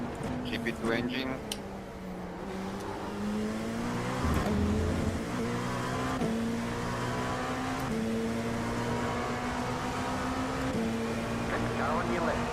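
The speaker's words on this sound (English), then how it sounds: "GP2 engine." A GP2 race car engine in the iRacing sim racing game drones steadily at high revs with a few shifts in pitch, loud and continuous, while a voice talks over it.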